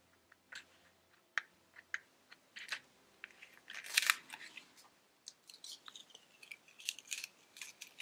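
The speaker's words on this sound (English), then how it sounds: "I'm gonna carefully peel this off." A mask being carefully peeled off a craft piece, a series of faint crinkly tearing and crackling bursts, intermittent and close in a quiet room.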